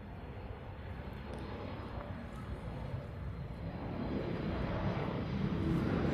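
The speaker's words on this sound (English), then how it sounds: "Next one is a Southwest coming in from Maui. It's coming in on the crossing runway." A Southwest airliner arriving from Maui on a crossing runway makes a continuous low jet roar that swells gradually louder as it approaches, heard from a distance with some wind buffeting the microphone.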